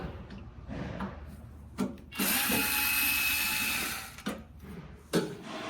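A power drill whirs steadily for about two seconds, backing a screw out of the left side panel of a Brother GTX Pro garment printer, framed by short bursts and clicks of the tool before and after.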